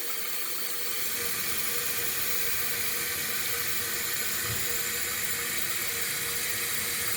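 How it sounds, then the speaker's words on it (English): A toilet tank refills after a new fill valve and flapper are fitted, water squirting down the hole into the bowl with a steady, close, full-band rush that runs unbroken throughout. "The water is actually squirting down the hole."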